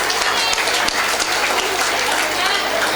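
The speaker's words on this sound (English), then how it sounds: "Please clap your hands." An audience at a school annual day and graduation awards ceremony claps hands in dense, loud, sustained applause that fills the room from start to finish without pause.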